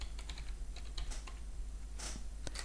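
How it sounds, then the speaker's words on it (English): Typing on a computer keyboard while entering client and operator details into load cell testing software, a run of close, quick clicks and clacks with a brief denser burst near the end. "excuse my typing"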